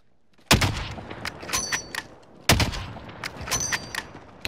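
Two heavy gunshots in Call of Duty Modern Warfare boom two seconds apart, each followed by a string of fainter shots, clicks and echoing reverberation.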